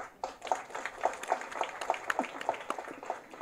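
An audience at a Tamil film audio launch claps in rhythmic, evenly spaced bursts, faint and somewhat distant, with no clear voices over it.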